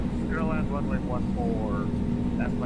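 An Airbus A320 engine spooling up in a flight simulator, a steady mid-range hum under frequent talking from the pilot.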